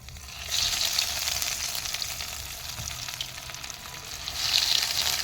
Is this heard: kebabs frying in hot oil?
yes